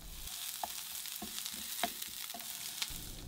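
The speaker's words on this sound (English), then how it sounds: "Cook the onions until they start browning around the edges." Onions frying in oil in a hot pan, a soft steady sizzle with occasional light pops and stirring scrapes, quiet and close.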